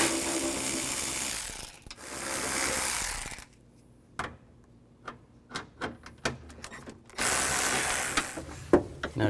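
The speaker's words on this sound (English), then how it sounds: "Use a 10mm socket to take all these bolts out." A 10mm socket ratchet removing window regulator bolts on a 2000-06 GMC Yukon, loud bursts of fast ratchet clicking broken by a quiet stretch of scattered single clicks and handling knocks, close up with no talk.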